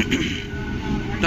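Train number 37852 pulling into Mogra station on time, a steady low rumble of rolling carriages with people talking over it nearby.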